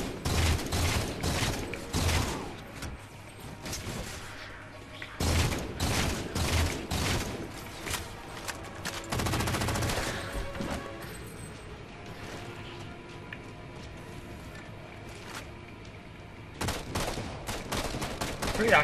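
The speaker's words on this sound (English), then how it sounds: "Pretty accurate, this machine gun." Rapid machine gun bursts in the Halo 4 campaign, repeated volleys of loud gunfire separated by short lulls with background battle noise and voices.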